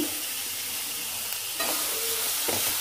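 Onions with grated coconut and tomatoes sautéing in a pan for an egg omelette gravy give a steady close sizzle with stirring scrapes that jump louder midway and again near the end.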